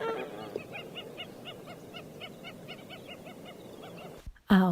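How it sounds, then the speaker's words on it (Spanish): A swan gives a run of repeated nasal, honking calls in a regular rhythm, moderately close. A sharp, louder burst of noise breaks in right at the end. "nos espera el cisne."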